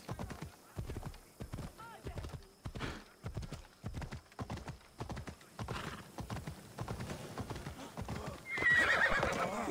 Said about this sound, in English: Come on, you damn horse!